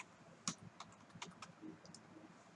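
Typing on a computer keyboard, a handful of faint, scattered key clicks at an uneven pace in a quiet room.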